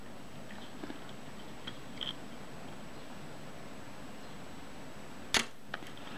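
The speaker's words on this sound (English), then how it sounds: "The shutter fired, the film advance freed up at the same time." A Retina 1a camera shutter fires during shutter-release adjustment: one sharp, close click near the end of a quiet stretch, followed by a fainter small mechanical tick.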